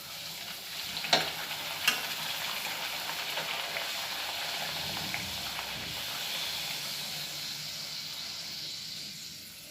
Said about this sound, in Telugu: ఇప్పుడు పూరీలు వేయించుకుందాం